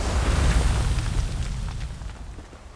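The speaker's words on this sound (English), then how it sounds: "I'm gonna throw a bomb down this hole." A bomb blows up down a cave hole in the video game Elder Scrolls Online, a heavy deep boom with a rumbling roar that slowly fades over a couple of seconds.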